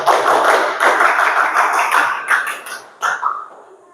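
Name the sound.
students performing the Pramuka scout clap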